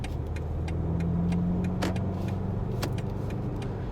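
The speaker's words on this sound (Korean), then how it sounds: "이 신형 5 시리즈 이 방향시등 넣으면서 느낀 건데 방향시등이 굉장히 절도 있고 뭔가 딱딱 이렇게 맞아 들어가는 느낌이 있어요" A new BMW 5 Series 520i turn signal ticks in a fast, steady rhythm inside the cabin over a low engine hum, with a couple of sharper clacks from the signal stalk.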